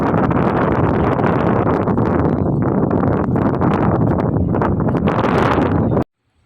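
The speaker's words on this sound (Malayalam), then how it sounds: "നല്ല കാറ്റാന്ന് ഞാൻ പറഞ്ഞില്ലേ കാറ്റടിക്കുന്ന സൗണ്ടാണ് കേൾക്കുന്നത്" Strong wind buffets the microphone in a continuous loud roar for about six seconds, then cuts off abruptly.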